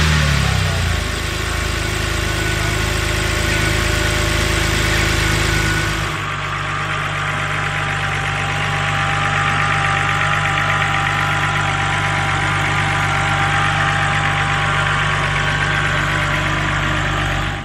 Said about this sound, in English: Let's fire this thing up and make sure we don't have any misfires.